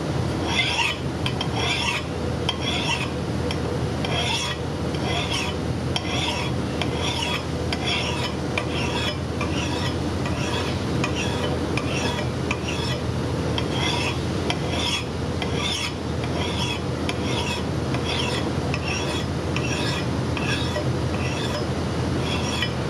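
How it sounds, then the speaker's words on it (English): A file is pushed across an axe blade clamped in a vise, making a steady, repeated rasping scrape in regular strokes, close and fairly loud throughout. "So that's what you call push filing"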